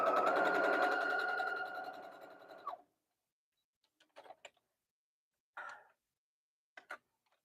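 A sewing machine runs steadily for nearly three seconds, stitching the bodice fabric of a Regency ball gown, then stops; a few brief soft handling clicks and taps of the fabric follow in near quiet.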